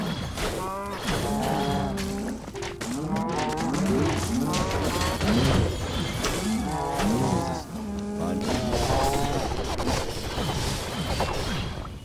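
Cows in Minecraft Dungeons moo repeatedly in loud, close, drawn-out bellows that overlap one another, with short pauses between calls and a thud or crash now and then.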